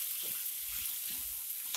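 Fenugreek leaves and potatoes fry in a pan with a steady broadband sizzle, a few soft stirring scrapes and a brief clatter near the end, close and alone.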